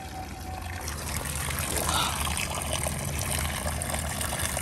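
Water steadily trickles and gurgles into the hull of a bass boat through a leak, a continuous close, hissing wash with no talk over it.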